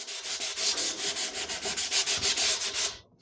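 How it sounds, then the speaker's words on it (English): A spray finish on wood is hand-sanded in steady back-and-forth strokes, about sixteen rhythmic rasping passes, close and loud with no talking, ending abruptly. "we're just sanding the finish."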